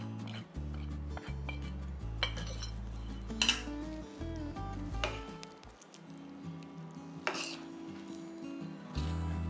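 A spoon stirs sambar spice powder into a pot of bisi bele bath, with repeated close metallic clinks and scrapes against the pot over a steady low hum.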